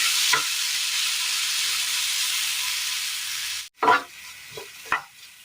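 Ripe jackfruit sautés in a pan, with a steady frying hiss that cuts off, followed by a few scraping stir strokes and quieter sizzling, close and with no voices.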